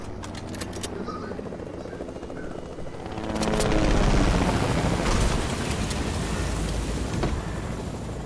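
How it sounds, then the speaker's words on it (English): A helicopter in the video game Fortnite flies with a steady whirring rotor drone that swells louder midway and stays close and continuous. "get in the helicopter, but go to the helicopter so I can fly it"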